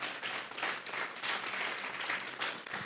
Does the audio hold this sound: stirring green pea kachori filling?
no